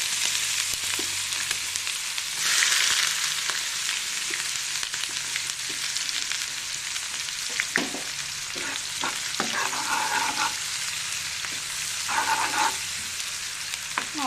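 Green chillies, garlic-ginger paste and onions fry in a pan for pasta. Steady, close sizzling runs throughout, with scattered clinks and scraping as the mix is stirred.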